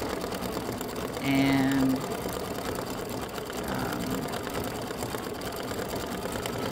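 An embroidery machine stitches a small flamingo sunglasses design, a steady mechanical whir running throughout, with a brief tonal beep and a short spoken word early on.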